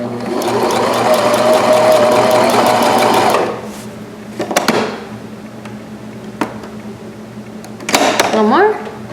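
A sewing machine stitches a buttonhole on pajama pants in a loud, steady run for a few seconds, then stops, followed by a few short clicks and brief bursts of handling noise.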